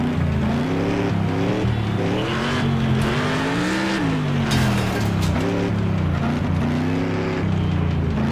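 Revving car engine from Next Car Game, an American car racing a European one, roaring loud and continuous with rising and falling pitch sweeps and occasional crashes.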